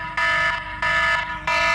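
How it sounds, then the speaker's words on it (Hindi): Swiggy delivery app order cancellation alert tone: a loud, shrill electronic alarm that sounds in three repeated bursts, each with a brief dip before the next begins. "ये कैंसिल टोन है।"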